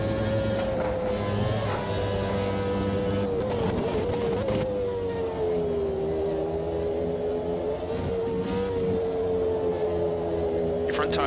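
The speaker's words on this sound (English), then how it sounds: "there's a Ferrari coming up" Ferrari Formula 1 car from the 1992–1997 era in Automobilista 2, a steady high-revving engine drone that shifts pitch as it closes in, loud and continuous under a racing engine bed, with a voice talking over it.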